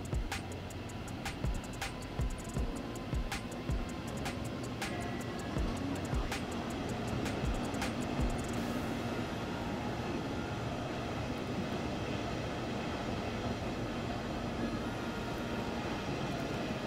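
A long train rolls past in Train Sim World 3 on the Augsburg–München line, hauled by a BR 110 with double-deck coaches. Steady rumbling is broken by regular clacks from wheels over rail joints, and the clacking fades after the first half.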